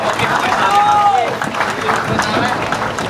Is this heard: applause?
yes